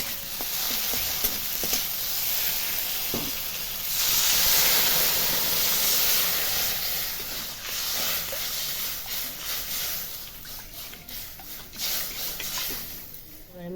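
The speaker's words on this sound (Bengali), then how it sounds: "মশলা থেকে তেল ছেড়ে দিয়েছে এবার দিয়ে দেবো এর মধ্যে আমি জল" Water hits a fried mustard and poppy seed spice paste in a pan for a khoyra fish curry, giving a steady close sizzle and hiss that swells into a louder steamy rush, then settles back with faint stirring.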